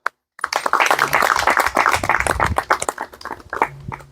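A crowd at a YouTubers meetup in Jashpur breaks into loud, sustained clapping, a dense, close burst of applause that continues for several seconds after a brief moment of silence.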